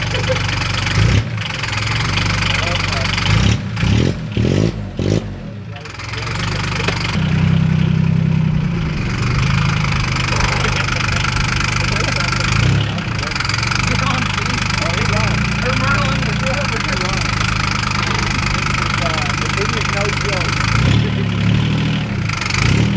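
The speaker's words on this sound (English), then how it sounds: "It's got a 3-cylinder Yanmar John Deere in it. Diesel, of course." A three-cylinder Yanmar John Deere diesel engine in a golf cart idles with a steady, rumbling chug throughout, loud and close, with a few brief thumps and bursts of noise near the start.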